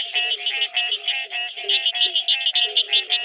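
Green tree frogs call in rapid, repeated nasal honks like a bicycle horn, close and loud, with a chorus of overlapping calls.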